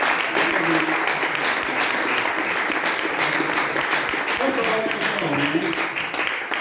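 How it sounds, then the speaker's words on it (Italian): An audience claps steadily and densely at an Italian musical reading event, a sustained wash of applause throughout with a few faint voices underneath. "Ancora un applauso a Claudia"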